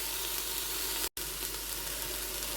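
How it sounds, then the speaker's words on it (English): Ingredients sauté and sizzle in a pan for paella, a steady dense hiss of frying filling the clip with a brief dropout near the middle, close and fairly loud. "While we're still sizzling"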